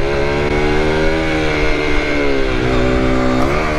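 A 125cc motorcycle engine revs hard and steadily during a wheelie, a loud, continuous high-pitched whine that holds near, with slight pitch dips and rises toward the end.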